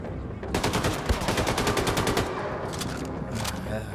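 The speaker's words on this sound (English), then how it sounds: "I'm just peppering them with bullets." Rapid automatic gunfire in Wolfenstein 2: The New Colossus, a dense, loud stream of shots rattling almost nonstop for several seconds, with brief bursts easing and resuming near the end.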